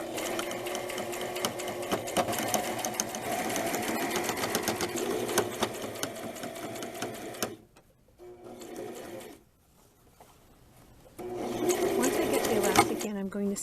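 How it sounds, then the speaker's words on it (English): A sewing machine topstitches the elastic casing of an eyelet blouse, its fast, even needle chatter running close and loud, pausing briefly twice and then resuming. "now I'm going to carefully top stitch it in place"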